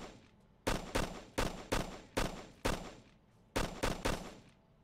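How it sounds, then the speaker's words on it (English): Gunfire in the video game Operation Flashpoint: Cold War Crisis: about nine sharp, loud shots in quick irregular bursts, each with a short decaying tail, with faint quiet between. "Someone's shooting at me."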